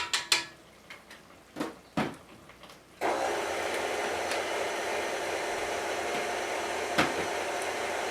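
Stand mixer beating cream cheese frosting for a vintage 1930s banana cake, a few knocks and clatters at first, then a steady loud whirring drone that runs on evenly to the end.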